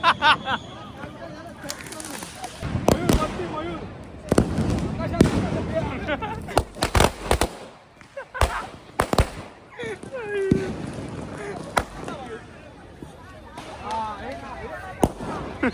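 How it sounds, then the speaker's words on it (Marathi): Firecrackers bursting outdoors: a rapid string of sharp, loud cracks and pops, some near and some farther off, with people talking and calling out between the bangs. "मला लय मस्ती होती बॉम्ब घेतला आपण फोडूया"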